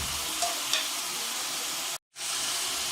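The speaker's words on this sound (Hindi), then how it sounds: "1 किलो गोश्त डाल दिया, तकरीबन 10 मिनट फ्राई करेंगे गोश्त को।" One kilo of meat fries in a pot for chicken biryani, a steady close sizzle with a couple of faint clinks, briefly cut off before the frying hiss resumes; no talking.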